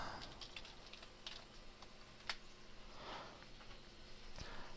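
Keystrokes on a computer keyboard during an online typing lesson, a steady run of soft, fast clicks heard close and faint with no one talking.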